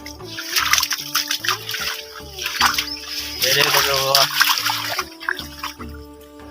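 Water splashing and sloshing in a cotton field flooded after heavy rain, with repeated close splashes as someone moves through it while someone talks over the sound.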